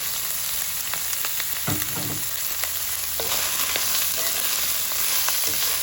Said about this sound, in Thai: ตามด้วยเห็ดหอมงามๆของเขานี่เลยนะครับใส่ลงไปเลยครับ